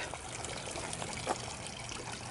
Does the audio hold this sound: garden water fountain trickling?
yes